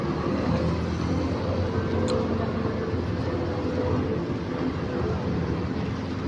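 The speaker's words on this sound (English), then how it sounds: "the sound of traffic around me" A steady, dense rumble of road traffic surrounds the listener, with vehicles passing continuously at a moderate distance.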